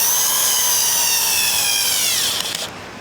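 A power driver sinks a screw into the wood of a DIY home office desk, giving a loud, steady whirring grind that rises in pitch and stops abruptly near the end.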